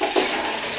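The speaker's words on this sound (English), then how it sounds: "when I get rid of this water down the sink" Water splashing and rushing steadily as a pot of water is emptied into a sink, brief and close with no voices.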